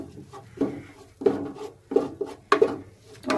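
Gram flour roasting in a pan is stirred slowly with a spoon, giving a series of scraping clinks and knocks against the metal, spaced about every half second, close and fairly clear.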